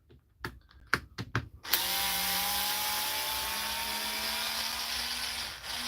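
A power driver backing screws out, a few short clicks and taps followed by a continuous close whirring run with a slowly falling pitch.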